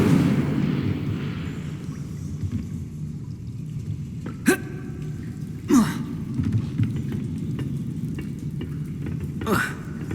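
Incendio fire spell in the video game Hogwarts Legacy, a few sharp whooshing bursts rising out of a quiet low rumble, spaced several seconds apart.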